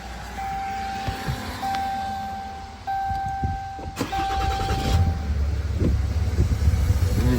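A 2010 Dodge Ram pickup with a 6.7 Cummins turbo diesel cranking and starting, a whining starter pulse giving way to a loud rumbling idle that settles into a steady low diesel drone close by.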